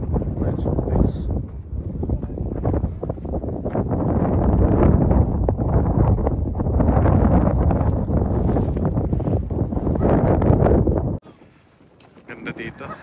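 Steady wind roars and rumbles across a microphone outdoors at Prince of Wales in Canada, loud and continuous for most of the stretch before dropping off abruptly near the end.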